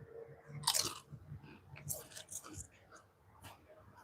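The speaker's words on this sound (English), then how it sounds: "But we're going to crunch these chips." Potato chips crunched and chewed close to the mic, with bursts of crisp bites and softer chewing in between, mixed with some quiet talk.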